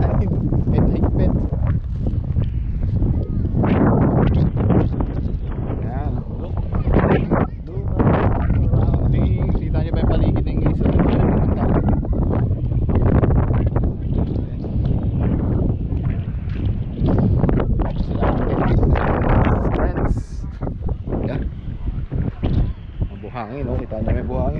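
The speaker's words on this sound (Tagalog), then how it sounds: "Baka lima rin dahil malakas ang hangin." Strong wind at Scarborough Beach in Western Australia roars continuously into the microphone, loud and buffeting throughout, while a person talks over it.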